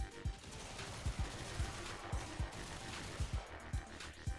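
Enemy gunfire in Warframe: a run of sharp, fairly faint shots, single and in quick pairs, repeating irregularly over a busy background wash.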